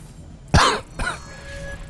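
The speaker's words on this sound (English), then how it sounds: "this guy having a bad cough" A player coughs over voice chat during a Forza game: two harsh, close coughs about half a second apart, the first louder, with faint hiss and hum of an open microphone around them.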